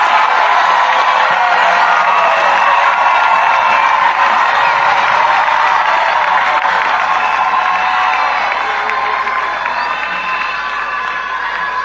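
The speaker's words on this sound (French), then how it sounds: "Clap for Jesus." A church congregation at a sermon cheers, whoops and claps for Jesus in a loud, dense, continuous crowd roar that fills the room and eases slightly toward the end.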